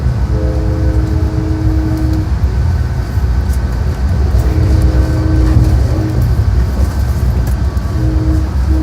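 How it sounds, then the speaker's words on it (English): Inside a moving Amtrak passenger train, a steady loud low rumble of wheels on track fills the space, with faint sustained tonal hums and squeals coming and going, and nobody talking. "We just got on the train"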